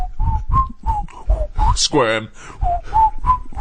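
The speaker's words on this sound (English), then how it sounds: "You whistle when you're playing Scrabble." A person whistles a short melodic tune in brief repeated notes, with a voice speaking briefly in the middle.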